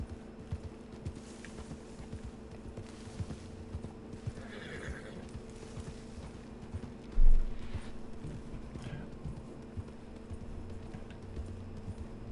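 A horse ridden in a video game, its hooves clip-clopping in a steady rhythm over a low background hum, with a whinny and one louder thump partway through.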